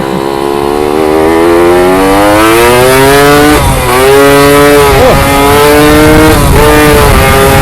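A Suzuki Satria Hiu motorcycle accelerates hard on a slipping clutch, the loud engine pitch climbing steadily, dropping back, then surging again in repeated sweeps, close and with no talk over it.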